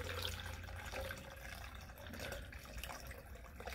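Water pours steadily from a container into a plastic shaker bottle for a protein shake, a soft, continuous splashing fill that is close but quiet, with no talk.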